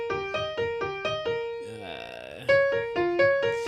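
Beginner-style halting piano playing the repeating arpeggio pattern of a song, uneven notes with a stumble and gap midway before resuming, played fairly loudly and close.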